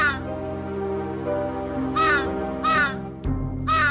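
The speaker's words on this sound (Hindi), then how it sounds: "अरे ये कौवा क्यों इतना चिल्ला रहा है?" A crow caws loudly in a cartoon scene, three harsh rising calls in quick succession over a sustained musical background, the last call following a brief bright jingle.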